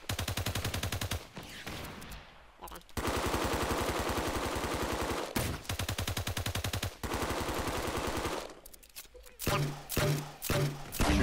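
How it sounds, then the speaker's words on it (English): Rapid automatic gunfire in a video game, long loud bursts broken by brief pauses, then shorter, more scattered shots toward the end. "I'm gonna try to snipe this guy"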